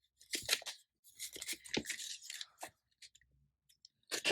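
A paper cash envelope is folded by hand, giving quiet crisp crinkles and creasing rustles in short bursts with brief pauses between them.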